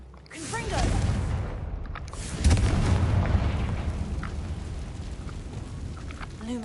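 A Confringo fire spell blasts in Hogwarts Legacy, a loud booming explosion with a rumbling low-end roar that swells and then trails off into crackling debris. A voice shouts briefly at the start.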